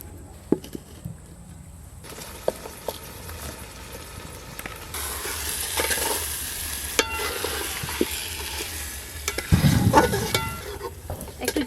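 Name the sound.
stirring chicken frying in a pot for biryani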